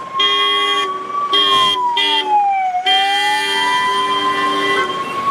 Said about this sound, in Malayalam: ഇപ്പം തന്നെ ഒരു ആംബുലൻസ് പോയി വേണ്ട.